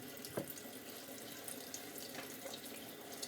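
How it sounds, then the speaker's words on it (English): A kitchen tap runs steadily as water soaks and rinses a scrub sponge, giving a continuous close splashing hiss with small shifts in the flow, no talking. "we're going to first rinse this so we get it nice and soaked with water"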